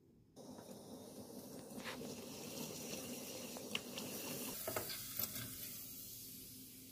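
Homemade urad dal papad frying in hot oil gives a steady, close sizzling hiss that runs throughout, with a few faint clicks and scrapes of stirring near the end.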